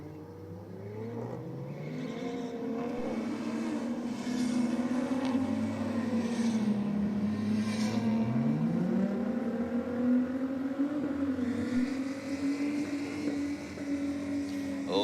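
Two drag racing cars, a Supra against a Falcon, roar steadily down the strip, engines droning loud and continuous with rising, shifting pitch throughout.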